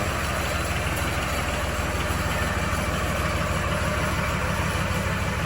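A John Deere 750 tractor fitted with a snowblower idles steadily, a smooth low engine rumble with an even pulse that holds unchanged throughout, close by and alone.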